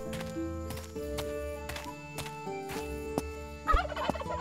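Turkey gobbling in the video game Travellers Rest, a quick burst of gobbles near the end over soft background game music.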